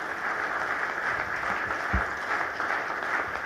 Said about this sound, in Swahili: Makofi mengi sana